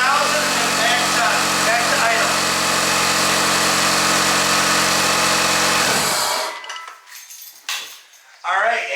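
A 2003 Mitsubishi Galant with a high-idle fault from its idle air control valve runs with a steady, humming engine note for about six seconds, then cuts off. Faint clinks and handling noises follow.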